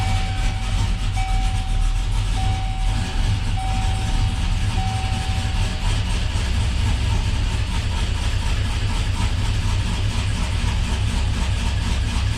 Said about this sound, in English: That's probably part of why it's idling so rough.